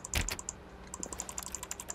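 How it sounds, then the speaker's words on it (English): Mouse clicks in The Stanley Parable video game that sound like keyboard typing, a quick irregular run of crisp close clicks after one heavier thump near the start, with no talking. "It's like clicking on a keyboard."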